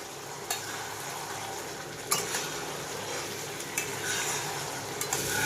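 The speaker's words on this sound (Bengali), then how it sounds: "এবার আলুটা দিয়ে ভালো করে কষাতে হবে।" Potatoes being stir-fried in a pan for a Bengali lunch: a steady close-up sizzle with a few sharp scrapes of the spatula against the pan, and no talking.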